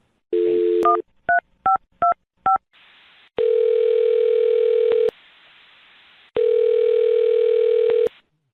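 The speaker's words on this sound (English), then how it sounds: "I'm going to dial her phone number right now" A telephone handset plays a dial tone and then a quick run of separate touch-tone beeps as a number is punched in. Long, loud ringback tones follow, close and clear, with no speech.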